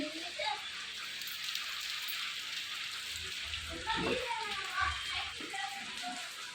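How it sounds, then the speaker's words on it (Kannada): Light rain falls with a soft, even hiss, while faint voices murmur briefly partway through. "ಜೋರು ಮಳೆ ಏನಿಲ್ಲ ಸಿಂಪಲ್ಲಾಗಿ ಬರ್ತಾಯಿದೆ ಕಮ್ಮಿ ಬರ್ತಿದೆ"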